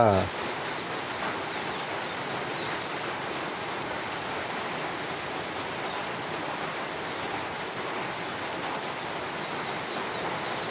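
Steady rain falls with a continuous, even hiss that holds constant and fairly soft from start to finish.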